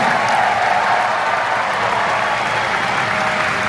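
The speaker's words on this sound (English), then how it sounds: "Let's have a big round of applause for Jimmy Goodwin and Kiwi One." Audience applause with some cheering at a Disney entertainment showcase at the D23 fan event, a dense, continuous wash of clapping from a large crowd lasting the whole stretch.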